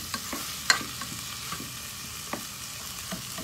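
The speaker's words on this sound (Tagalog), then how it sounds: "Halo-haloin lang natin siya mabuti." Ginisang bagoong alamang, sautéed shrimp paste, is stirred in a pan with a soft steady sizzle and a string of light spoon scrapes and taps.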